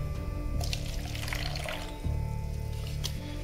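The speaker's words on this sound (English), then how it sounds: "So we're just going to do a little bit of water." Water poured from a container into a mixing vessel for plaster, a close, steady trickling splash that runs continuously for a few seconds beneath a low background hum.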